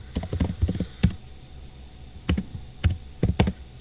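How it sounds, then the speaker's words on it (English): Fingers type a command on a computer keyboard in short bursts of close, crisp key clicks separated by a pause, with no voices. "So now we're ready to type the command and issue it."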